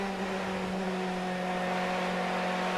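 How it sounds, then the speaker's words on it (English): A DTM touring race car on track at the 2011 Eurospeedway round is held at a steady high engine note in an onboard view, a loud continuous drone with no voices. "just the sound of this car being punished around this racetrack is music to a petrol head's ears"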